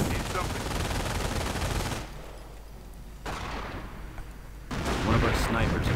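Gunfire and artillery barrage in a WWII strategy game: dense bursts of shots and booms fill the start, drop to a quieter lull, then return loud and continuous near the end.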